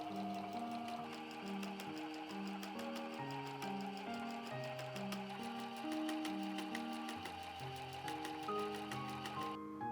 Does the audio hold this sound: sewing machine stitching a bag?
yes